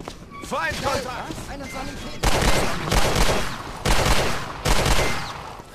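Rapid bursts of automatic gunfire and bangs from the video game Hidden and Dangerous 2, set in a maze of corridors, dense and loud in several clusters, with a player's voice heard talking in the gaps.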